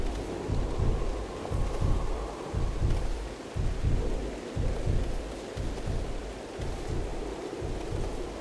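Thunderstorm with rain in the game Hades II: a steady wash of rain under repeated low, rolling thunder rumbles that pulse at a regular pace, moderately loud and without voices.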